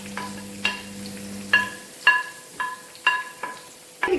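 Onions go into a hot pan for chicken korma, setting off a steady sizzle with repeated sharp clinks and scrapes of a utensil stirring them, alongside a low hum that stops partway through.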